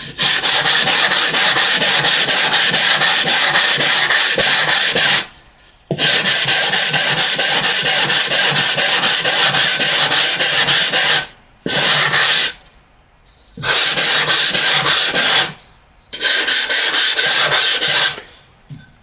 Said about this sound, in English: Now all I got to do is come down here and sand the side view in.